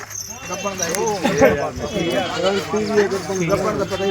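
A Barbari goat bleats repeatedly amid a livestock sale, its wavering cries overlapping with nearby people talking over steady background bustle.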